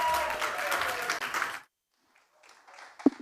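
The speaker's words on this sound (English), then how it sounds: "Shall we give her a round of applause?" Conference audience at a climate event giving a round of applause: a dense wash of clapping for about a second and a half, then silence and a few scattered sounds.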